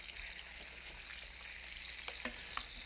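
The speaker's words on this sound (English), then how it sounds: "And you keep turning it. You want it to be very nicely browned on both sides, but not black." Beef browns in a pan on a hot burner and is turned now and then, giving a faint, continuous sizzle with a few soft clinks and scrapes toward the end.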